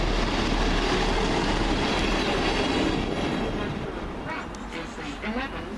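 Northern Rail class 158 unit 158907 rumbles past at close range with a loud, continuous roar of wheels and engine, easing slightly toward the end, and faint wheel squeal and clatter come through.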